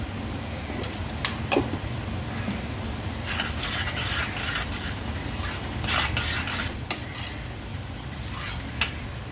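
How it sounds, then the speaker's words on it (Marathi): Totapuri mango murabba is stirred in a pan, a steady close rasping scrape of spoon against the pan bottom over a thick low bubbling, with bursts of louder scraping and no talk. "आपण त्याला हलवायला पाहिजे."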